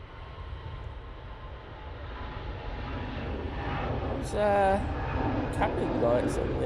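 Airliner on its takeoff roll at Manchester Airport, a broad rising engine roar building steadily from moderate to loud at a distance, with a voice talking briefly over it toward the end.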